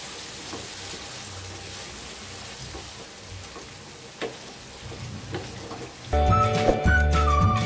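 Ginger garlic paste sizzles in hot oil over a medium flame, a soft steady crackle broken by scraping spoon strokes as it is stirred, before loud music cuts in at the end.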